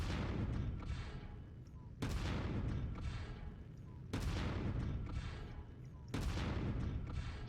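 Heavy ballistic weapon fire from a mech in MechWarrior 5: Mercenaries, booming in four loud, evenly spaced salvos about two seconds apart, each blast trailing off into a rumbling decay. No one speaks.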